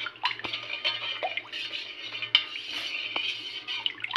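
Water, buttermilk and salt being stirred in a pot, a spoon scraping and clinking against the metal with soft sloshing liquid, faint and close, with no talking.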